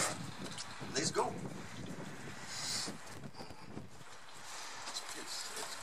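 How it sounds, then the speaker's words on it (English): Breezy wind blows steadily across an open model airplane flying field, a continuous rushing roar with gusty swells and mic buffeting, with a voice speaking over it. "It's quite breezy today."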